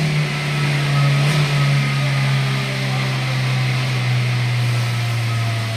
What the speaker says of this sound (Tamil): ரேஸ் பண்ணுறேன்.